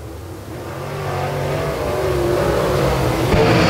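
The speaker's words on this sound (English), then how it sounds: "Oh, Bell hopping the car bad into turn number one." Late model race cars racing on an oval track, engines roaring and building in a continuous loud drone as they pass, no talk.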